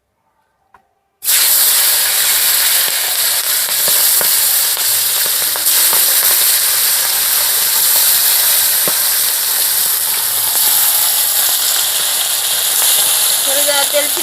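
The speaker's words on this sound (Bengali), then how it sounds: "শিঙি মাছগুলোকে ভালো করে ভেজে নেবো লাল করে" Singi catfish fry in hot oil, bursting into a loud, dense, spattering sizzle after a brief quiet moment and hissing on steadily, close up, for the rest of the clip.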